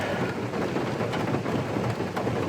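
Steady, heavy rain pours continuously, a dense hiss of drops drumming on a surface with no pauses.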